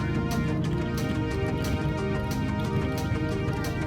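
Heavy rain falls during a motorbike ride, a dense steady patter of drops over the continuous low rumble of the running engine, loud and close throughout with no pauses.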